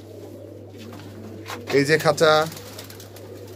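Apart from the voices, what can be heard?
pigeons cooing in cages, Pakistani high flyer pigeons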